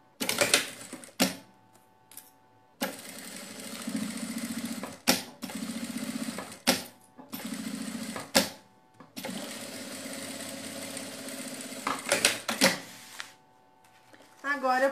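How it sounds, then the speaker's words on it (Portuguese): A sewing machine stitches along the bottom seam of a fabric sack bag in bursts of steady mechanical whirring, broken by short pauses and clicks, with someone speaking at times between the runs. "Agora eu posso costurar aqui toda a parte de baixo."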